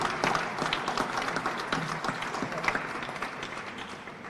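An audience at the Digitech 20th anniversary event breaks into dense, sustained applause, a close, loud wash of many hands clapping together without pause.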